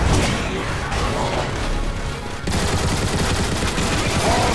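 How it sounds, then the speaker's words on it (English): Dense game battle from Transformers: War for Cybertron, with rapid gunfire and heavy explosions of a bombing run pounding continuously at close range, a brief dip midway before the barrage surges again. "Bombing run will commence in 5, 4."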